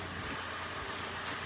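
A 2013 Hyundai Elantra with the 1.8 G4NB engine and manual gearbox idles steadily, heard from outside the car as a quiet, even low hum with no voices over it.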